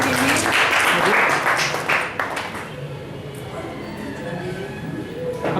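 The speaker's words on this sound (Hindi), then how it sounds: "एक अच्छी सी तालियां देनी चाहिए मन से इनके लिए" Audience applause at a chiropractic and acupressure camp event at an Arya Samaj hall, a dense burst of clapping that fades after about two seconds into a quieter room murmur with some voices.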